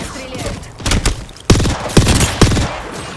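Bursts of gunfire in Apex Legends, several sharp loud volleys and thumps in quick succession over about three seconds, with a character's voice calling out in the mix.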